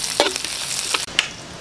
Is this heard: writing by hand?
no